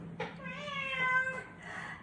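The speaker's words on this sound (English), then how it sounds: "it's a lot easier if you do not have a cat whinging at you in the background" A cat meows and whines indoors, one drawn-out plaintive meow followed by a softer trailing cry, close by and fairly clear.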